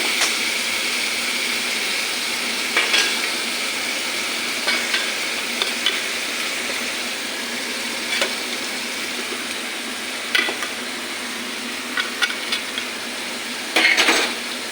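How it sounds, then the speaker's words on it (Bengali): Spice masala with green chillies frying in a pan, a constant bright sizzle running throughout while a spatula scrapes and taps against the metal at intervals, close and loud, with no speech. "দেখো আমার মশলাটা কি সুন্দর ভাজা ভাজা হয়ে গেছে"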